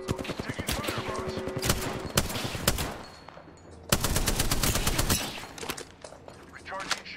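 Rapid bursts of automatic gunfire and shots from a match of the video game Apex Legends Arena, loud and dense with a brief lull before heavy firing resumes, mixed with game effects.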